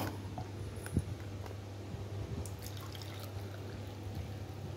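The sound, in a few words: pouring warm water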